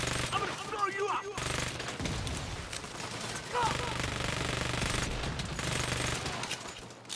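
Gunfire from a weapon in the video game Saints Row, dense bursts of shots crackling through a busy mix of game effects, with a person talking over parts of it.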